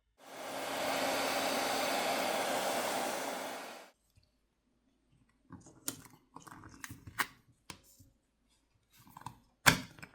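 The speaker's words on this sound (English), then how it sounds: "heat needs to be applied to the back plate using either a hairdryer or a heat gun" A hair dryer blows steadily for about four seconds, heating the back plate of a Samsung Galaxy S25 Edge phone during disassembly, then cuts off, followed by scattered small clicks and taps.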